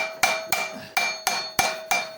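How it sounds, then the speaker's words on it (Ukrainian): A hammer taps a part of a Honda GCV 160 engine from a walk-behind tractor, six sharp, evenly spaced metallic knocks, close and ringing briefly after each strike. "беремо наш чарівний молоточок"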